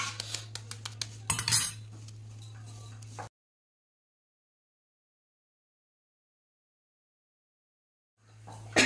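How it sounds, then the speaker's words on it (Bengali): Eggs cracked into a bowl for a vegetable egg paratha: a few short, close clicks and taps of shell and utensil against the bowl, then a long stretch of silence. "দেন তারপরে একটা বাটির মধ্যে ডিমটাকে ফার্স্টে ফাটিয়ে নেব।"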